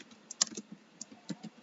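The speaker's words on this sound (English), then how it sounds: "Yep, I use keyboard too." Computer keyboard keys clack during a gaming session, a quiet, irregular patter of sharp individual taps spread across a couple of seconds, close to the microphone with no voices.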